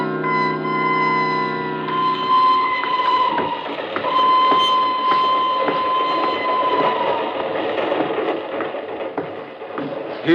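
A train rolls steadily along the rails, with rhythmic clattering and metallic squeals and hums, loud and continuous throughout.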